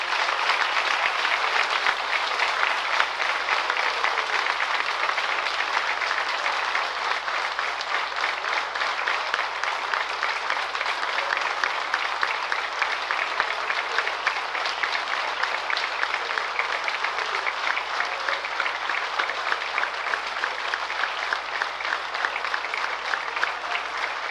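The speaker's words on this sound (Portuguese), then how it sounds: "Uma grande salva de palmas para o Senhor." A church congregation claps in steady, dense applause for the Lord during a bilingual revival service, holding loud and even from start to finish with no pause.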